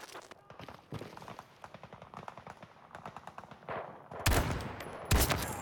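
Rapid gunfire crackles in the shooter game Battlefield 2042, where a Desert Eagle pistol is in use. Quick bursts of shots repeat steadily, then two louder, heavier blasts hit near the end.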